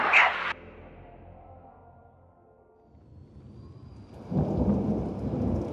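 Thunderstorm with rain as an audiobook sound effect: a sharp thunder crack at the start rolls off into a low rumble, then a loud wash of rain and storm noise swells in near the end, with no voices.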